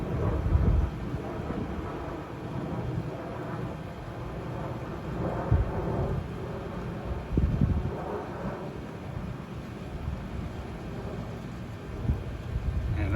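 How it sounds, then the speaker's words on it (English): A weak monsoon thundershower seen from a back patio brings low, rolling thunder rumbles that swell several times over steady wind and light rain, with no talking. "Man, that rain does feel good."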